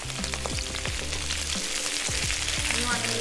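Garlic sizzles in a hot pan over high heat during Chinese cooking, a continuous crackling fry punctuated by repeated scraping strokes of a utensil stirring it, close and clear.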